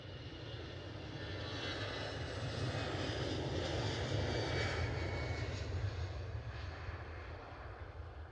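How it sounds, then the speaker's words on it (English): A British Airways airliner taxiing at Edinburgh Airport gives a steady, broad jet-engine hum and whine, moderately close and continuous, swelling slightly midway with no talk over it. "British Airways just nosing their way in."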